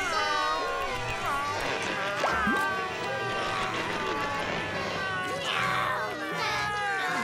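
A cartoon character in the SpongeBob SquarePants universe mimics a cat with high, drawn-out meows, mixed with excited chatter and background bustle throughout.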